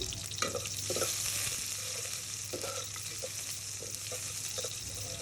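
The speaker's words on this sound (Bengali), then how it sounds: "এখানে আমি দিয়ে দিচ্ছি একটা মিডিয়াম সাইজের পেঁয়াজ কুচি" Steady sizzling of chopped onion frying in hot oil, with occasional scraping and stirring sounds over a constant hiss and a low background hum.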